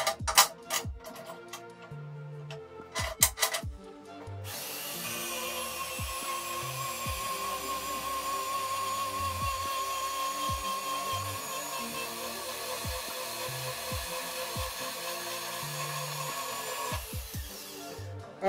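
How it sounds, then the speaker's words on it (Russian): A band saw with a repaired blade whines steadily as it cuts through an 18 mm steel bar, a sustained metallic tone lasting several seconds, framed by clunks and knocks before and after. "20 секунд и ремонтное полотно отрезало 18-миллиметровый пруток"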